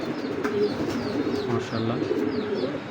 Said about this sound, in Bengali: অনেক বড় সাইজের এই কবুতরটা